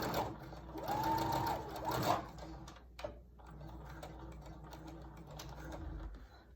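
A sewing machine stitches a fabric face mask, its motor humming steadily and loudly for about two seconds before it stops. Quieter handling noises and faint mechanical rattles follow.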